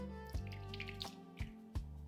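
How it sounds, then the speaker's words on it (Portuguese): A small amount of water, about 20 ml, trickles into a bowl holding 2 grams of unflavoured powdered gelatin, with faint drips and soft splashes over a steady low hum. "Vou adicionar mais ou menos 20 ml de água."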